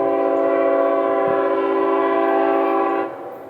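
Freight train M209, a mixed consist of intermodal cars leading autoracks, approaches on the double-track S-Line at Briceville. Its horn sounds one loud, sustained, chord-like blast for about three seconds, then cuts off and leaves a lower rolling rumble.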